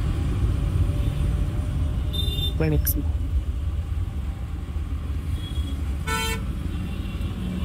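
Road traffic near an office in Viman Nagar: a steady low rumble of passing vehicles, with two short car horn toots cutting through, one near the middle and one toward the end, while a person speaks over the noise.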